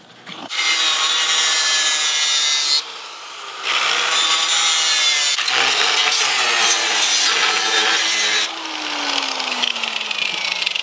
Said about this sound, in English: just cut a line right across here to cut that bracket off